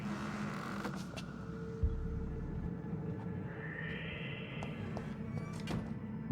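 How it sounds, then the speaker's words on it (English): A door creaks open in the video game Vampyr, a faint, drawn-out groan rising over a low, steady rumble of game ambience, with a soft thud near the start and another at the end. "But here's a door we can open."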